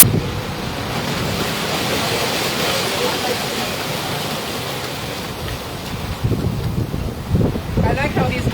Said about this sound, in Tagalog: You know, the wave keep on coming.